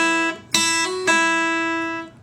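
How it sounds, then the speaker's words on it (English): Open first string on an acoustic guitar in a Delta blues lesson, played as a pull-off lick: a few quick plucked notes sounding alone, each ringing out and slowly fading. "he plays this interesting pull off on the first string"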